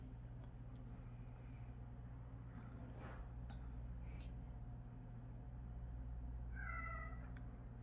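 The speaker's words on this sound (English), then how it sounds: "that's my cat Sassy in the background wreaking havoc" A pet cat named Sassy meows in the background of a quiet room, one drawn-out, wavering meow near the end, faint against a steady low hum, with a few scattered soft knocks earlier.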